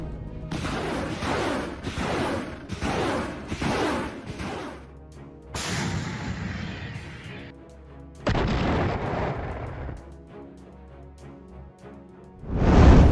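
Grenade blasts and weapon fire ring out in combat footage of Ukrainian assault troops attacking Russian soldiers in Kursk. Several sharp, loud bangs come in a quick cluster, then larger booming bursts follow after pauses, with no talk.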